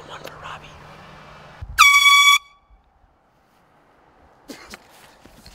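Air horns sound on a mountain at Mammoth Lakes, California during an air horn golf event: one loud sustained blast of about half a second, preceded by quiet talk and followed by near silence and faint voices.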